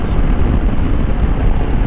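A Royal Enfield Himalayan motorcycle rides along a road, giving a steady, loud, low rumble mixed with rushing wind noise that holds even throughout, with no voices.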